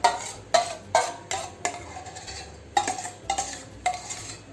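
A spoon or spatula scrapes and taps against a bowl while pandan sponge cake batter with melted butter is stirred by hand, making a series of sharp, close clinks in an uneven rhythm with quiet gaps between strokes.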